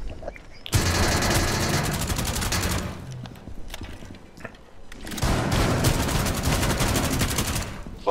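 Rapid automatic gunfire in the shooter game Rainbow Six Siege, two long loud bursts of fast-repeating shots split by a short quieter gap.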